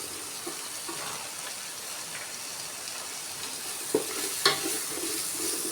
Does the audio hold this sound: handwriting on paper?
no